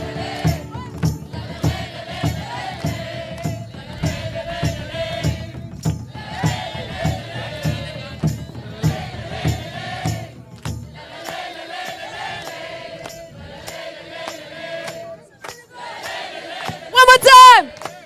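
A crowd of people in Budapest shouts together in bursts on cue, several loud group yells separated by short pauses, with a rhythmic low thumping underneath during the first half and a sharp high burst near the end.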